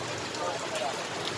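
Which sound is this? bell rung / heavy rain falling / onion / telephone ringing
heavy rain falling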